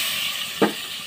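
Garlic paste goes into onions frying in a pan while meat is being cooked. It lands with a brief burst of sizzle over a steady hiss of frying, and no one speaks.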